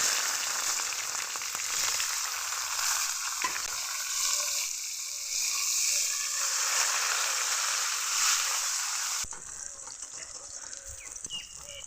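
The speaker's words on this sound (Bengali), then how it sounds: "পেঁয়াজগুলোকে লাল লাল করে ভেজে নিলাম।" Chopped onions fry in hot oil after a dried red chilli has been cracked in, a steady broadband sizzle running close and continuous throughout, with a brief clatter of stirring and a slight drop in the hiss near the end.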